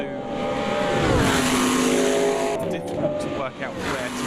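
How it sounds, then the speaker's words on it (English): Group C race cars in Automobilista 2 at a Long Beach street circuit, engines roaring loudly and continuously with rising and falling revs, gear changes and faint tire squeal, close and dense throughout. "All of these engines and exhaust systems sound absolutely fantastic."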